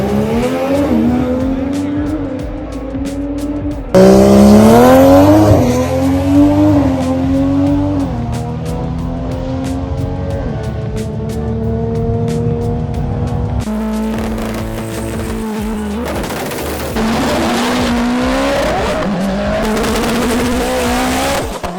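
A 2013 Subaru WRX race car makes an eight-second quarter-mile drag run at TX2K 2021, its engine roaring loud and close through rising gear pulls with sharp shift breaks, tire noise and a faint voice underneath.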